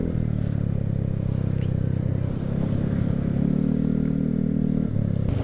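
A steady, low engine drone runs throughout as a Vespa Sprint 150 scooter cruises on a morning ride, heard up close with constant wind rumble and no break in the tone.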